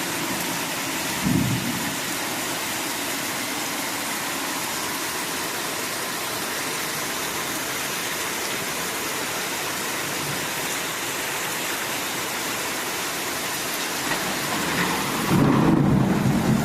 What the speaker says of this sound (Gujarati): વીજળીના ભડાકા થાય છે અને વરસાદનો તો કોઈ માપ નથી એટલી વીજળી